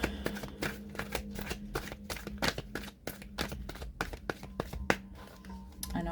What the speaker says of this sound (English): for some reason I just want to keep shuffling